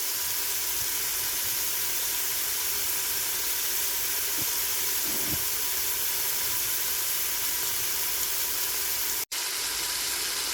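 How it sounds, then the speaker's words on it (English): Garlic and green pepper sautéing in extra virgin olive oil in a pan give a steady, even hiss and sizzle that stays constant throughout, with a few faint clinks and one sharp click near the end. "our garlic, and our green peppers with some extra virgin olive oil, and I'm just going to saute those up a little bit"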